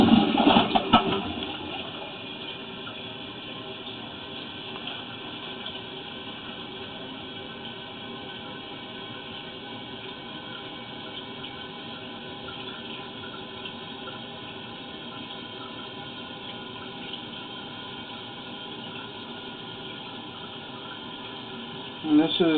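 Water rushes steadily through a pipe during a flush, a continuous even hiss and gush that holds for over twenty seconds, with brief louder bursts at the start and end.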